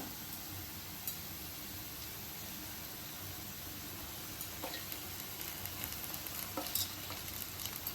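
Chicken fries with sautéed onions in a pan for Mangalore ghee roast, making a soft, continuous sizzle with a few light clicks and stirring taps toward the end, quiet and close.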